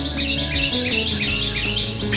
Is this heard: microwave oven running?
no